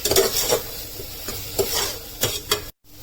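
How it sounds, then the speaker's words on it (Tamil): A spoon stirs turmeric into a sizzling pan mixture for bottle gourd kootu, several scraping strokes against the pan over a soft background sizzle, then the sound cuts off briefly near the end. "கொஞ்சமாக மஞ்சள் சேர்த்துக்கிறேன். இதெல்லாம் மிக்ஸ் பண்ணிக்கோங்க"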